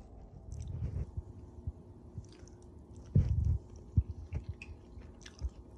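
Close, quiet chewing of keto waffles with fried eggs: soft irregular bites and squishy chews, with one louder, longer crunching burst partway through.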